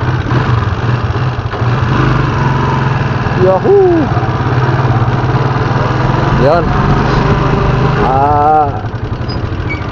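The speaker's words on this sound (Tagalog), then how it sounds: "Narinig niyo ba yung mga tunog ng motor ko mga karod?" A small motorcycle engine runs steadily with a buzzing drone while people shout and chatter excitedly over it.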